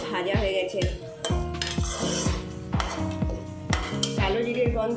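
A sesame okra curry with tomato, black cumin and asafoetida being stirred in a pan, a spoon scraping in a quick repeated rhythm, close and fairly loud, with a light sizzle underneath.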